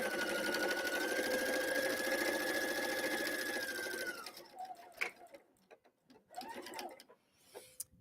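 A sewing machine stitching short stitches on a holiday pillow, running in a fast steady whir with a rising motor tone for several seconds, then stopping, followed by sparse clicks and handling sounds.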